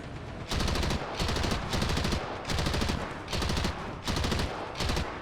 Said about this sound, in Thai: ใช้ปืนกลยิงไป